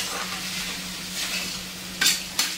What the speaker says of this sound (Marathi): छान असं आपण खोबरं परतवून घेणार आहोत